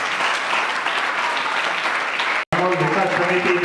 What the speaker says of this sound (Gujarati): જોરદાર તાળીઓથી આપણે બધા જ મહેમાનોને આવકારીશું અને વધાવીશું